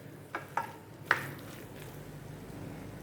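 Macaroni pasta with butter is stirred in a pan, giving a few soft scraping clicks in the first second, then a faint, steady low sizzle.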